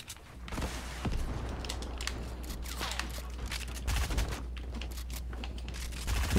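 Fortnite gunfire, bursts of rapid shots over a low steady rumble, with scattered cracks and clatter at moderate loudness.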